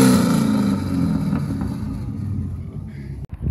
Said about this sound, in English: Can you rev it?